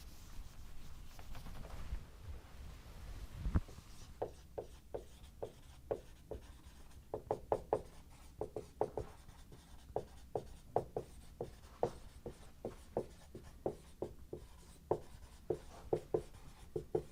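Writing and drawing on a board during a chemistry lesson, with soft scratchy marker or chalk strokes tapping out in short, irregular bursts, faint and close, after a brief knock near the start.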